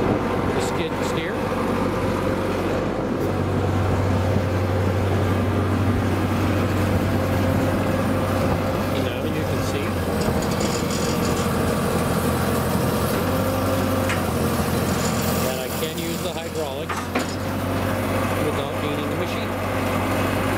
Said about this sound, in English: I've just turned on the auxiliary hydraulics